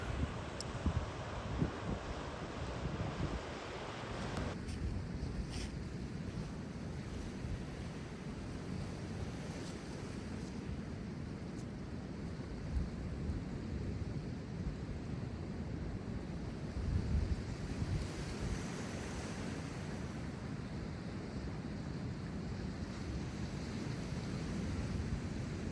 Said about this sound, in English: The surf folds into the rocks, steady and patient.